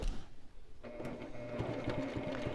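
A sewing machine stitching glitter vinyl with a 3/8 inch seam starts up after a quiet moment and runs in a close, rapid rhythmic chatter of needle strokes.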